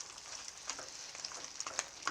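Crab frying in hot oil over high heat in a wok, a faint steady sizzle with scattered small pops and crackles, no talking.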